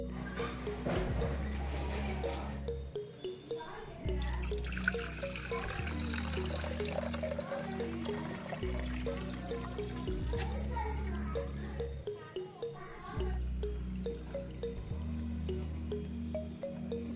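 Water runs steadily into a glass fish tank being filled for a leak test, a continuous close trickling and splashing with a pulsing low rumble and brief pauses.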